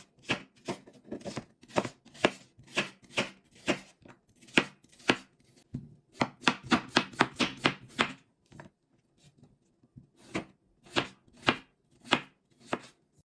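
Potatoes are chopped with a knife on a cutting board in quick, steady strokes: crisp, close knocks in runs, with a brief pause partway through before the chopping picks up again.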